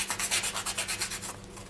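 Polymer clay acorn pendant being sanded by hand, about a dozen steady back-and-forth rasping strokes in an even rhythm, close and clear, then a brief pause at the end.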